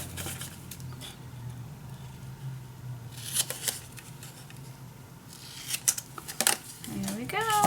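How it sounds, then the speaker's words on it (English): Scissors cut paper for a handmade craft mini album, making a few crisp snips in two short clusters up close, with a person talking softly at times. "And then I'm just gonna cut it 1 inch off."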